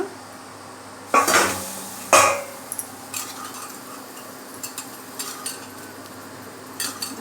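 Metal lid lifted off an idli steamer in a home kitchen to check steamed idlis, giving two loud clanks of metal against metal followed by faint scattered clinks of utensils.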